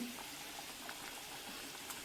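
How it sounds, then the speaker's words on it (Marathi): Liquid bubbling at a low rolling boil, a soft continuous simmer with occasional small pops, close by and fairly quiet, as alu vadi is added. "मस्तपैकी उकळी आलेली आहे"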